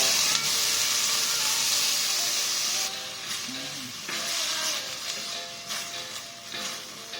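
Garlic, pork and string beans fry in a pan with a steady, soft hissing sizzle that eases slightly partway through.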